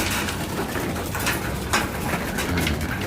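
A racing pigeon coos softly, low soft calls repeating over a steady background hiss, close by, with no talking.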